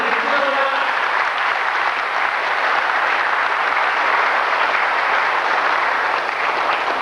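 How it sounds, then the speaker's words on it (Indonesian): At a church's 40th anniversary gathering, a large audience gives loud, sustained applause for guests from Bali, a dense, steady roar of clapping with a voice briefly audible at the start. "kita beri tepuk tangan yang meriah"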